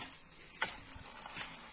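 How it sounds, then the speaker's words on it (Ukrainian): A heart cooking in a compact frying pan over a small dry-fuel tablet flame, giving a quiet, soft continuous sizzle with a couple of brief faint pops, close and low in level. "От вам вже шкварчить, шкварчить"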